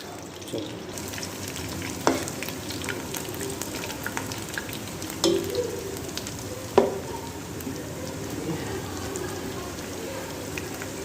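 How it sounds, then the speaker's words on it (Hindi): Chopped onions sizzle steadily in hot oil for a Peshawari chicken karahi, a close, continuous frying hiss broken by a few sharp clinks of stirring, with no voices. "हल्का सा ऑयल गर्म करने के बाद आप इसमें प्याज को शामिल कर दें।"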